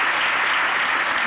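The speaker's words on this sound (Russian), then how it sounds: "Наши вам аплодисменты." A television talk-show studio audience applauds, giving a loud, dense and even burst of clapping that fills the whole short moment.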